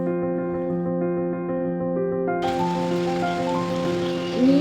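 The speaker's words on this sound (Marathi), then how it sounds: "असा चांगलाच पाऊस चालू असला की मग तर विचारायलाच नको" Steady rain falls outdoors during a wet spell, a soft hiss that swells noticeably halfway through and continues over sustained tonal sounds.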